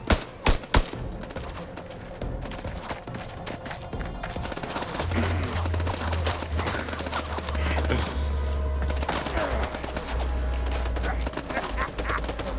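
Video game gunfire in House of Ashes: a few sharp close shots open, then a dense, loud stretch of rapid shots and rumbling combat noise with a deep droning hum underneath.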